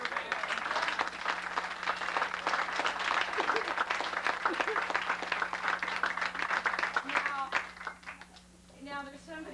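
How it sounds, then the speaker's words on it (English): An audience at a 1994 school holiday program event claps and applauds, a dense sustained round of clapping that fades out near the end, with voices mixed in. "So let's give her a hand."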